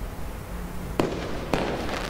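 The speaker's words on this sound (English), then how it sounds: "Oh, Charlotte, the fireworks!" Fireworks going off at a nighttime fair in an animated film, two sharp distant bangs about half a second apart over a steady background hum.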